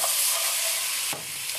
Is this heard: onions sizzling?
yes